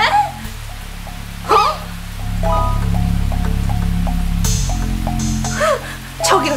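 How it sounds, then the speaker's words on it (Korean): Heavy rain pours steadily, a loud continuous wash with a background drone, while a person speaks briefly in Korean. "아, 비가 너무 오잖아."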